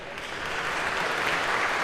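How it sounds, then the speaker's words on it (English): Lecture-hall audience in a computer science class applauds student volunteers coming to the front, a steady broad wash of many hands swelling slightly and continuing without speech. "round of applause for our volunteers"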